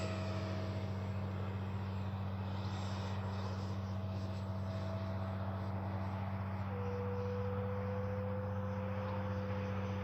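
Freewing F9F-5 Panther RC jet flying, a faint steady electric ducted-fan whine with a low hum underneath, sustained without a break as the tone shifts slightly partway through.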